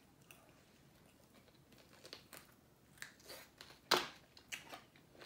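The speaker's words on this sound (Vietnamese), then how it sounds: "cái gân của nó nghe dài, nhai giòn, rất là giòn" Korean-style fried chicken tendon is chewed up close: a run of crisp, crackly crunches with one sharp, loud crunch partway through, then quieter chewing.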